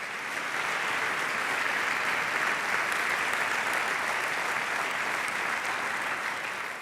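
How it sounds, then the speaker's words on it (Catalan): An audience at a literary awards ceremony in Girona claps in steady, dense applause, a continuous wash of many hands that holds evenly for several seconds without voices rising above it. "Els rebem un fort aplaudiment."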